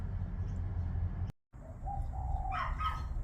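Gouldian finches in an outdoor aviary give faint, sparse chirps and soft calls, mostly toward the end, over a steady low background hum, with a brief silent gap near the middle.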